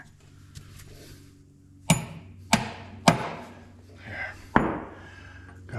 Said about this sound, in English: Hammer's too long.